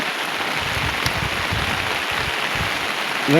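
Heavy rain pours steadily on a rooftop, a dense continuous hiss with faint low patters of drops hitting nearby surfaces, alone and without voices.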